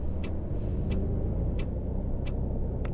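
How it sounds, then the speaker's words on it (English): A tour bus turn indicator in Tourist Bus Simulator ticks in a slow, regular rhythm, with about five crisp clicks over a low, steady idling engine hum. "do some indicating"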